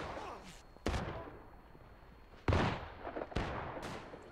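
Gunshots in the American Civil War game War of Rights, fighting in and around a barn: a few sharp, loud reports spaced out over a low background hum, with one heavier crack and smaller pops trailing after it.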